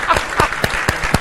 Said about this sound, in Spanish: Señores, un aplauso.